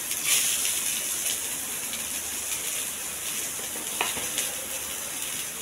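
Cumin, mustard seeds and onions sizzle steadily in hot oil for a tempering, a continuous bright frying hiss with occasional pops and stirring clinks, heard close and alone.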